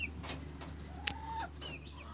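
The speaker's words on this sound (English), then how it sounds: "And then we got little red hens down here. Yeah, and they're very noisy." Young red hens, baby pullets, cluck and squawk close by in a short burst of several sharp calls over a steady background hum.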